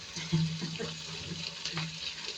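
Water poured from a tap into a pot of spaghetti sauce with hot dogs in a home kitchen, a short soft running splash with light clinks, close and fairly quiet.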